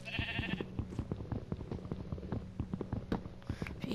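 Sheep bleat in the video game Minecraft, a few short bleats over a busy run of quick, rhythmic clicking taps that carries on throughout at a steady, moderate level.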